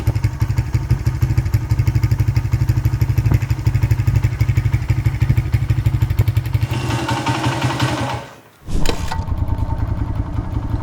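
A Honda XR100 motorcycle engine, revived after 17 years unstarted, runs loud and close with a rapid thumping exhaust note, rises as it is ridden through the gears, dips almost to silence, then picks back up.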